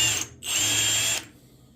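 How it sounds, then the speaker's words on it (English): Power drill running a 1/4 inch bit to countersink a rivet hole in metal: a short, loud whirring burst that pauses briefly, then resumes for about a second before stopping, heard alone. "on the back side, I'm going to use a 1/4 inch bit to countersink it to give our rivet"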